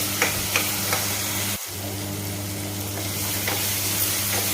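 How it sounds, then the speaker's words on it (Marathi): Paneer masala sautés in a pan, with a steady close sizzle and hiss and a few faint scraping stirs, interrupted briefly by a short dip partway through. "दोन तीन मिनिट आपल्याला कंटिन्यू ह्याला असं ढवळत राहायचं"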